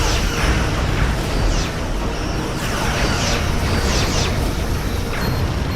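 Borg vessel explosions in the Star Trek Legacy space combat video game: dense, loud rumbling blasts with several sharp bursts and crackles layered over a continuous roar, no speech present.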